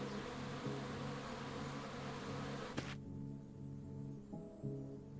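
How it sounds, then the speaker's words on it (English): Insects buzzing high in trees in a video game, a steady droning hum with tonal layers that shifts partway through, moderately quiet and continuous, with no voices. "I hear buzzing from up high in one of the trees."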